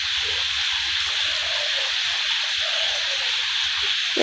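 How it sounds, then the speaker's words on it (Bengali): Steady drizzling rain falls continuously in a broad, even hiss, moderately loud and unbroken throughout, with no voices. "টিপ টিপ করে বৃষ্টি পড়েই যাচ্ছে।"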